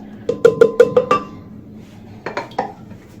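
Jello mixture being added into a pan in a kitchen, with a quick run of about five sharp clinks and knocks of dishes, then a pause and three more taps, close and clear with no talking.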